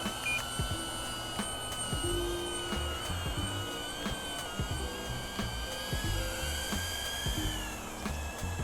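A DJI Avata drone flies in sport mode, its steady high-pitched whine of buzzing propellers and motor tones holding near and loud throughout, with pitch wavering slightly as it maneuvers.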